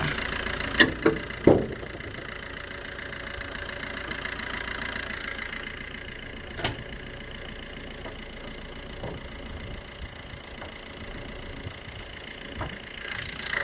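A steady diesel engine idle from a 2012 Maruti Suzuki Ertiga ZDI drones on with a low, even rumble, broken by a few sharp knocks and clicks near the start.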